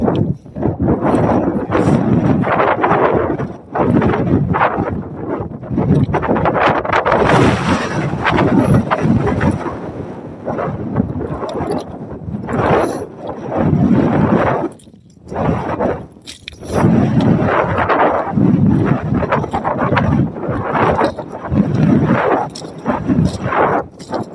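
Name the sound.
wind blowing on mountain summit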